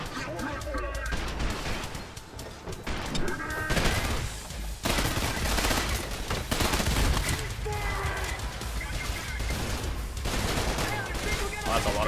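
Sustained heavy gunfire fills a Trepang2 firefight at the Pandora Institute, with dense bursts and rattling shots running almost without pause under an occasional voice.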